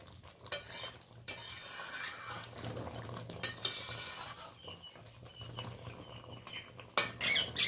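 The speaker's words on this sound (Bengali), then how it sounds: "তরকারিটা কমপ্লিট হয়ে গেছে, এবার আমি একটা পাত্রে ঢেলে নেব।" Curry of patol and katla fish head being transferred from the pan into a serving bowl, with close spoon scrapes and clinks against metal over a faint lingering sizzle, a louder clatter near the end.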